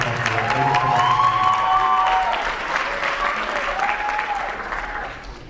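An audience at a student union poetry slam applauds, a full, steady round of clapping with some cheers and whistles, loud and continuous across the span.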